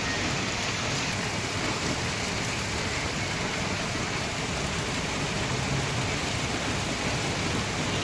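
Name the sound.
heavy rain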